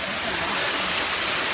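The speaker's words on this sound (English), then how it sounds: "We discovered one more waterfall" Small waterfall on a slippery, misty trail, a steady broadband rush of falling water heard close and alone.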